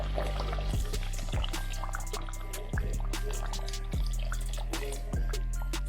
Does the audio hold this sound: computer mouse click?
no